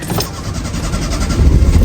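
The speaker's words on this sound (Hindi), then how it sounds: "अभी करते हैं हम अपनी गाड़ी स्टार्ट" A car fitted with foam tyres has its engine started, a loud, close mechanical churn that grows into a low rumble toward the end.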